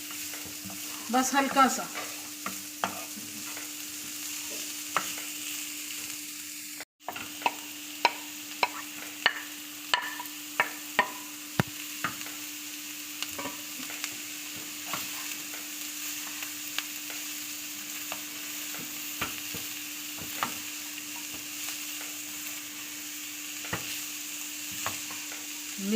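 Boiled, shredded chicken stirred in a pan, with soft scraping strokes and scattered clicks of a spoon against the pan over a faint steady sizzle, one brief spoken remark near the start.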